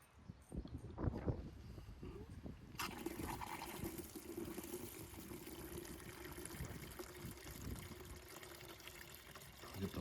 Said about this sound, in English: got the water turned on. You can see it filling up.